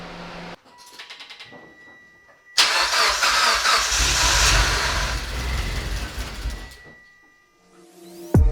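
A Mitsubishi Evo X with a big turbo cranks briefly, then fires and settles into a loud, rumbling idle with deep low-end roar for several seconds before shutting off, followed by a short whine and a clunk.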